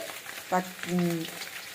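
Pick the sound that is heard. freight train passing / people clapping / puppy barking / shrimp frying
shrimp frying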